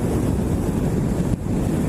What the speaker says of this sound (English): every now and then a gust of wind hits me, and it'll push this little bike around